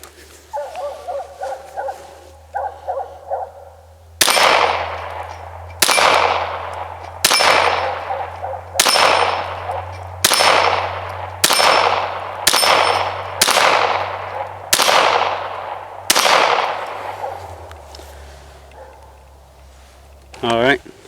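A Ruger Mark III Hunter pistol fires about ten evenly spaced shots at steel plates outdoors, each sharp report followed by a ringing clang and a decaying tail, with a steady low hum underneath.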